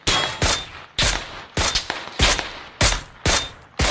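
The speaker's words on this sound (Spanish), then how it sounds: "Sí, hay tiros acá afuera." Gunfire in PUBG, loud sharp bursts of shots in an irregular rhythm, several quick clusters with brief gaps between them, each with a short echoing tail, no voices.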